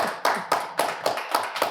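Sharp, evenly spaced claps ring out one after another, about seven in under two seconds, close and fairly loud with a slow, steady beat and no talking.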